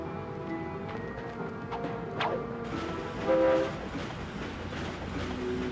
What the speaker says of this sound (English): Oh boy, a train.